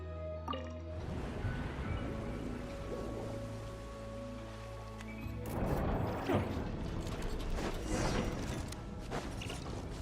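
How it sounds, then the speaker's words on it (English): Water draining from a sluice gate chamber in a video game: a mechanism clanks and drips, then a louder rushing gush takes over with splashing bursts. "turn on the drainage mechanism in front of the second sluice gate, and this chamber will become empty once again"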